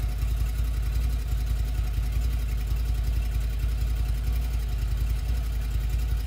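A CF Moto Force 1000 idles steadily, a loud, close, low-pitched engine rumble with an even rapid pulse throughout, no voices present.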